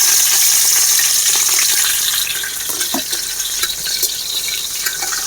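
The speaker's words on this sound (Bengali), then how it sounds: "তেল গরম হয়ে গেছে, এবারে কাঁচা লঙ্কা কুচি দিয়ে দেবো।" Chopped green chillies hiss and sizzle loudly in hot oil in a wok, a steady, dense frying crackle with small pops and no voices.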